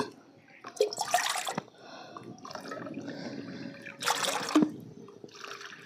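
Water poured into an empty kadai (wok-style pan) on a stove for cooking, a trickling splashing pour with bursts of louder gushing, fairly close.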